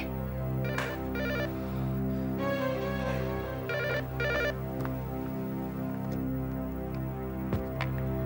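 A telephone rings in short repeated bursts, fairly faint, over a steady low background hum, with no voices.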